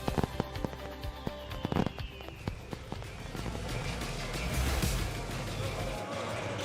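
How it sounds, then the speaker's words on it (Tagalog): Fireworks bursting in an advertisement, with a rapid run of sharp crackling pops and bangs at the start that give way to a denser, roaring rumble, with no speech over it. "keep the tradition alive with fireworks built for excitement and crafted for safety"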